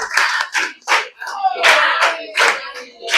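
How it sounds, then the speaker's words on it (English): A group of schoolchildren clap together to welcome a guest at a school event, with bursts of hand claps mixed with voices over about three seconds. "Let's clap and welcome Madam."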